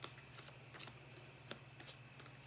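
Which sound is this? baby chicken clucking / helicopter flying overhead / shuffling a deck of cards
shuffling a deck of cards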